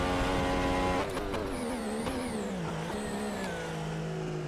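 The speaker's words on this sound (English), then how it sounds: "Accidentally double downshifted to 1st gear there." A Formula One car engine in the F1 2014 video game drops through the gears, falling pitch steps between shifts over a steady loud mechanical whine with no talk.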